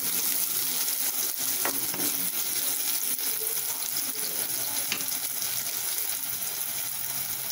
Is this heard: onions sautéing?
yes